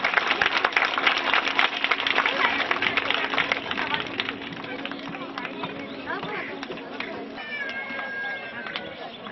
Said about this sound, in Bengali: জোরে করতালির মাধ্যমে অভিনন্দন জানানোর জন্য সবাইকে অনুরোধ করছি।